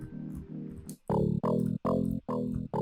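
A Reese bass synth patch built in Serum and widened with a chorus effect plays thick, buzzing low notes, first as a sustained drone and then as four rhythmic pulses, loud and alone.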